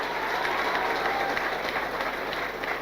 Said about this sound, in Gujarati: ખરેખર એમની મધર માટે એક જોરદાર તાળી પાડો.